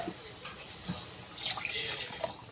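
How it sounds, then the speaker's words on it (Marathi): Hot water poured into an egg curry gravy in a pan, a brief splashing trickle, faint and close, with no one speaking. "पाणी गरम टाकायचे म्हणजे पटकन उकळी येते।"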